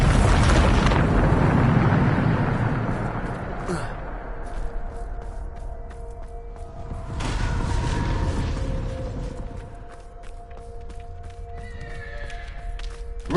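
A Bombarda spell explosion in Hogwarts Legacy: a loud, rumbling blast that fades into crackling debris, with a second burst midway and a horse whinnying among the game sounds.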